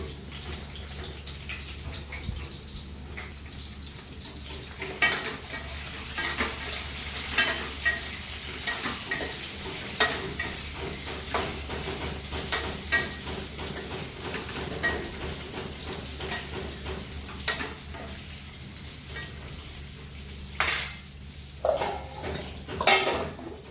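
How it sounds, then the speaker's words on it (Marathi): Eggplant sautéing in a pan, a steady sizzle underneath repeated scraping and clattering strokes of a spatula turning the pieces, loud and close throughout. "आधी वांगे परतून घेऊन छान वांगे वाफवले की मग त्यामध्ये हा जो उरलेला मसाला आहे तो घालेल"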